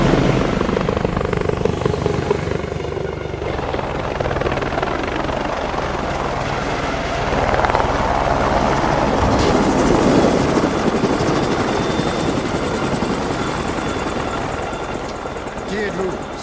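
An unmarked helicopter flies close by, its rotor thumping loudly and continuously throughout, with voices speaking over the steady roar.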